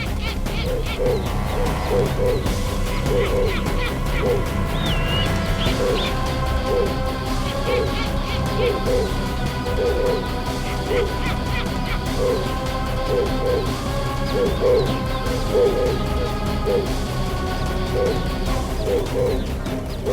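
Repeated owl hoots and shrill cries sound over a dense, droning background, with rhythmic calls recurring throughout.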